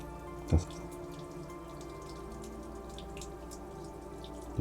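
Water trickles inside a cave at Wat Tham Wattana Mongkhon in Khao Chamao, Rayong, a soft steady wash broken by two distinct, close drips, one near the start and one at the end.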